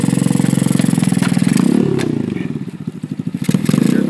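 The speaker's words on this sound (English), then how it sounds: "Here's my wacky new bike, 125, manual, 4 gears." A 125cc manual four-speed motorcycle engine chugs loudly nearby, its pulsing idle rising and dipping as the throttle is blipped, with some clattering and scraping mixed in.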